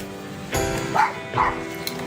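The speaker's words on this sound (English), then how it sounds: "the neighbor's dog is barking at me like crazy" A neighbor's dog barks a couple of times outdoors, two or three separate yelping barks at a moderate distance over low background noise.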